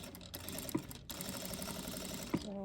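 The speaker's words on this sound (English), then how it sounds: "So from here I'm going to do the top stitching." A sewing machine top stitches a torn men's shirt in a quiet continuous whir, broken by a brief pause and a couple of soft clicks.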